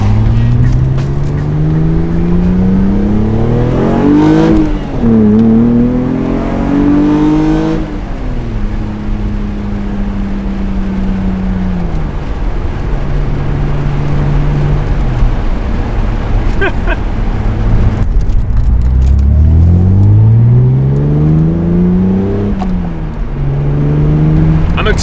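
Toyota MR2 mid-engine V6 sports car driving, its engine rising and falling through repeated accelerations and gear changes, loud and close inside the cabin, with a steady road roar underneath.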